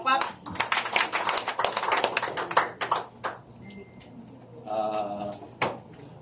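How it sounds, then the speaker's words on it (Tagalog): An audience at a meeting of national religious group leaders breaks into a short round of clapping that fades after about three seconds, followed by quieter room sounds and a brief voice. "Palakpak."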